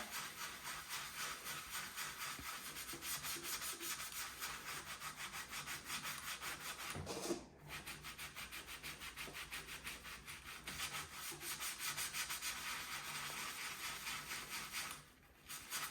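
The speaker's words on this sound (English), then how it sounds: "Kind of having to give it a little bit of a scrub." A surface is scrubbed with cleaning paste, a continuous close rasping rub in back-and-forth strokes that pauses briefly twice, with no talking.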